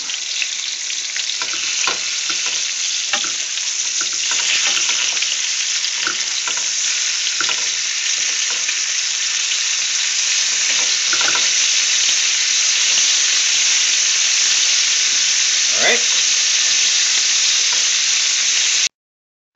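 Pork chops sizzle steadily in a skillet, a loud, close, continuous frying hiss broken by scattered pops and crackles, with no one talking.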